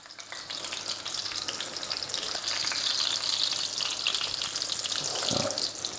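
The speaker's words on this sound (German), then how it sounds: "Und jetzt noch von der anderen Seite anbraten" Pork chops sizzle steadily and loudly in a hot pan, a constant crackling hiss with a brief clatter near the end.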